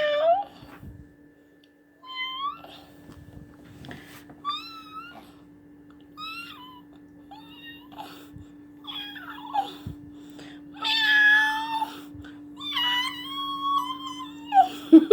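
A cat gives several short meows close by in a quiet room, spaced a second or two apart, with a steady background hum and a person talking and making playful sounds over the later part.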